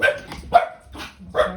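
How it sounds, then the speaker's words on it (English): A pet dog barks indoors in a few sharp, loud bursts as someone approaches the door, with a brief spoken apology between barks. "that's my dog. I think somebody's coming to the door."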